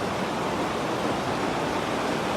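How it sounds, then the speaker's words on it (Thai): A clear forest stream flows in a constant, even hiss of running water, close and unbroken, with no voices. "น้ำไหลไส้เย็น"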